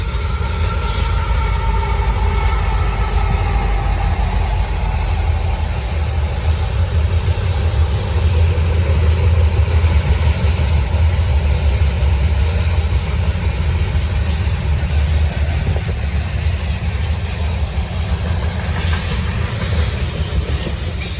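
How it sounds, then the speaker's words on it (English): Norfolk Southern freight train with a distributed power locomotive near its rear rolling past close by on the Charlotte District, with a loud steady rumble of wheels and cars, rhythmic clatter and occasional wheel squeal, heard alone. "Here comes the NS DPU."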